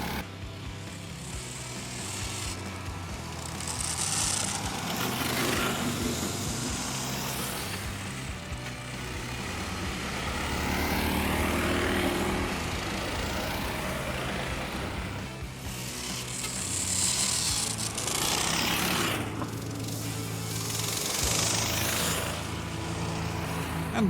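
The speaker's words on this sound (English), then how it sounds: "In this group, we'll see motorsleds equipped with ski module and engines up to 13 HP." Homemade motorsleds with small engines up to 13 HP race on snow, their buzzing two-stroke engines rising and falling in pitch as they pass at middle distance, a continuous overlapping drone throughout.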